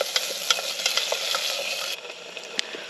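Mushrooms soften in a pan over a camp cooking setup, stirred with a hand-carved wooden spoon: a steady close sizzle carries scraping knocks and clicks from the spoon, with the frying noise dropping slightly near the end.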